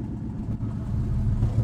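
U-Haul truck engine running just after starting, a steady low rumbling idle close by.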